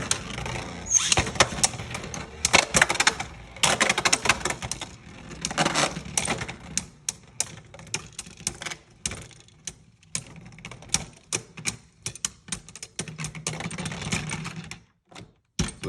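Beyblades launched into a stadium, spinning and colliding, a dense rattling whir at first giving way to sharp, scattered clacks and knocks as the tops strike each other and the walls, close and loud.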